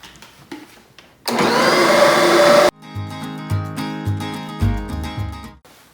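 An electric stand mixer whirs loudly while blending milk, sugar and flour into a dough for cinnamon and orange rolls, starting abruptly and running steadily for over a second before cutting to lower, uneven thumping knocks.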